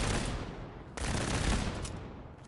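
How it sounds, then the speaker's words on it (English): Gauss submachine gun in Fallout 4 firing a rapid, dense stream of electric-charged shots, loud and continuous with a brief break near one second before the burst resumes. "We have the submachine gun, which is now a Gauss submachine gun, which you can see actually has no recoil."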